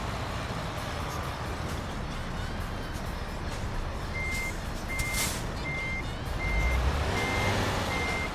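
Truck reversing alarm in Euro Truck Simulator 2 beeps in a steady, evenly spaced series over a constant engine rumble, the beeps starting partway through and continuing to the end.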